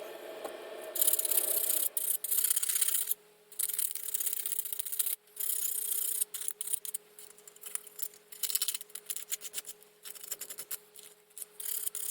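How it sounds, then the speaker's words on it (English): Sandpaper rubbing along the edges of cut-out model parts for a Nebula class starship build, a close, continuous scratchy rasp in repeated strokes with brief pauses between passes. "Now I just need to sandpaper the edges and round it off."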